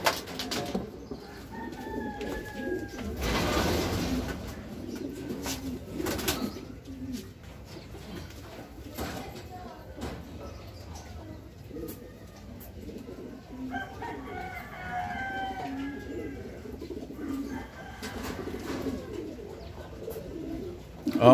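Racing pigeons coo softly at a loft during a fun race, low throaty calls repeating through the background with scattered rustling and a few faint chirps, no talking heard.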